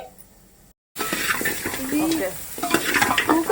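Mutton paya being stirred in a pan with very little oil, a steady close sizzle with scraping spoon strokes after a brief pause; a voice speaks over it.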